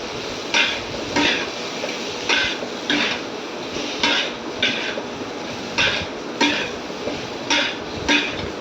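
A spatula scraping and knocking in a cooking pan while chili powder is stirred in for a rohu fish and raw mango sour curry, rhythmic metallic strokes about every half second over a low sizzle.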